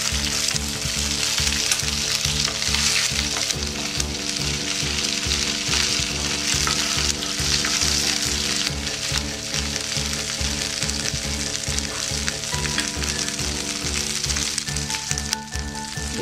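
Whole spices and raisins frying in a pan for carrot semai, a loud, even, continuous sizzle with crackling bursts and faint stirring throughout, nobody talking.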